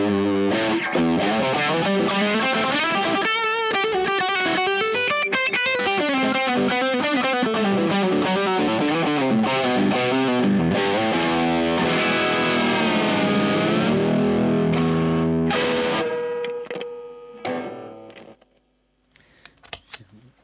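Electric guitar with a mid-focused pickup played through a Caline Eagle Eye boost pedal (G-011), a loud driven riff with chorded strums and bends lasting about fifteen seconds before ringing out and fading to near silence.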